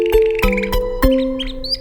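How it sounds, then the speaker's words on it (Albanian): A canary sings a short bright phrase of sharp chirps and sustained tonal trills, loud and close, with a few quick notes at the end and no voices. "Kanarina."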